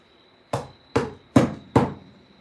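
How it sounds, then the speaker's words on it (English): A claw hammer strikes four times in a steady rhythm. The blows are close, loud and solid, and each one has a short ringing decay over a faint steady hum. "This is really hard to do with a claw hammer."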